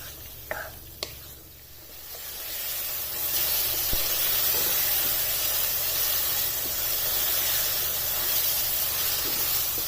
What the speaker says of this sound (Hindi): अब कलेजी को इसमें 3 से 4 मिनट तक भून लेना।